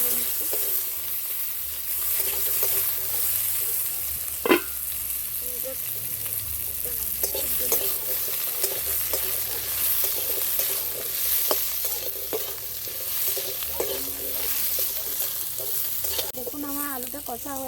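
Sea crab curry stirred and fried in a hot wok: continuous loud sizzling with rhythmic scraping strokes, one sharp metallic clank early on, and a brief clatter of the utensil near the end. No one speaks.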